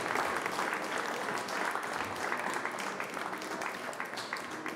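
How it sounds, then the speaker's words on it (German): Audience applause at a conference session on public transport, a dense, steady clapping from a large crowd that fills the whole stretch at even loudness. "Dann bitte ich um einen großen Applaus"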